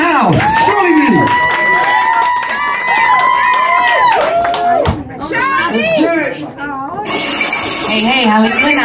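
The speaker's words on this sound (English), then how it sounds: "Round of applause right now." A crowd cheers, whoops and shouts for a performer at a live event, loud and continuous, with an amplified announcer talking over it.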